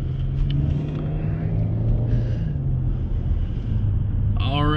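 Steady low engine and road rumble from a car driving along a road on the way to a store, with wind buffeting across the whole stretch and a brief higher whine near the end.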